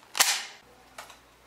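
A single gunshot in an animated cartoon episode, a sharp, bright crack followed by a fainter second click about a second later, close and with no voices.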